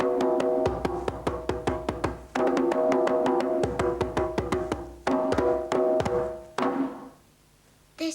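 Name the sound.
djembe drum played on rim and middle together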